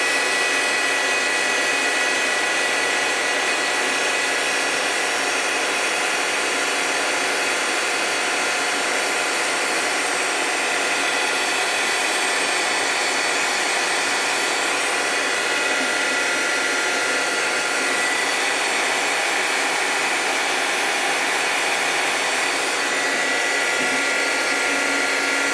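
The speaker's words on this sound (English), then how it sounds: "right on my heat mat, I'm going to go ahead and use my heat gun." Heat gun blowing steadily onto a heat mat to melt ICED Enamels, a continuous loud airy roar held without pause throughout, with no talking.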